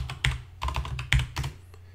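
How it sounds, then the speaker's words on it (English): Typing a command into a terminal on a computer keyboard, four or five crisp key clicks in small uneven clusters, close and clear, with no talking. "I'm then going to open up a terminal window and just type Haxe."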